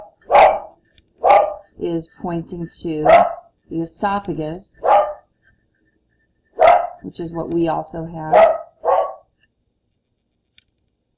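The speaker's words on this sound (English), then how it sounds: "sorry about that, that's my dog" A dog barks several times in short bursts close by, the barks interleaved with a person speaking in a calm lecturing voice.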